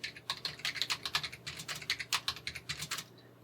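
A key store password is typed on a computer keyboard, about twenty quick soft key clicks at an uneven pace, close and quiet, trailing off at the end.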